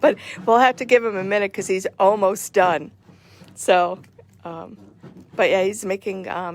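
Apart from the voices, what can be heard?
No everyday noises stand out.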